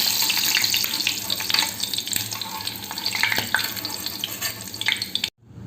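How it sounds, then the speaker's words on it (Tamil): Boneless anchovies frying in hot oil give a loud, continuous sizzle and crackle with stirring scrapes, stopping abruptly near the end. "பொரிக்கும்போது எல்லாத்தையும் இந்த மாதிரி திருப்பி போட்டுக்கோங்க"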